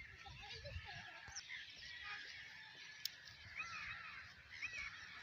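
Crows caw outdoors at a distance, giving several faint, rough calls scattered over a steady background hum. A sharp click sounds partway through.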